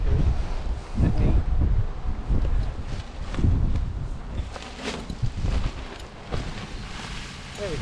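Strong wind buffets the microphone throughout a kite launch at a windy outdoor spot, with loud low gusts surging and easing.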